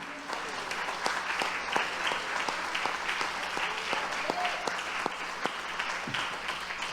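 Church congregation applauding together during a service, a steady broadband wash of many hands clapping with sharper individual claps standing out, continuous for several seconds at moderate distance.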